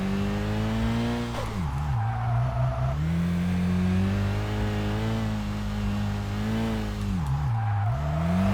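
A race car in the video game Kaido Racer 2 drifts sideways with a loud, sustained engine drone, pitch dipping and rising as the throttle is blipped and the tires scrub through the slide.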